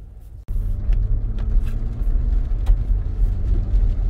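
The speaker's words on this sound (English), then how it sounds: "All right, so we started the car." A 2018 Toyota Highlander starts with a sudden engine catch, then settles into a steady low rumble of the running car as it begins to drive, heard from inside with no talking.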